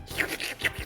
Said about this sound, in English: sound of noodles being chewed echoed through the silent dining hall